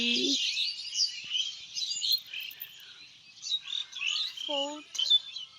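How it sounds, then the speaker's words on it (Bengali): High, busy bird chirps and tweets go on throughout, with a brief voice-like sound at the start and another near the end. "পাখিগুলো উড়ে উড়ে আছে এক জায়গা থেকে আরেক জায়গা"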